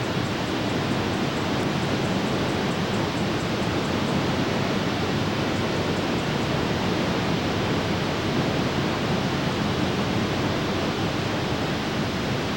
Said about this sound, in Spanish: Siguiendo el Iguazú río arriba llegamos a las grandes cataratas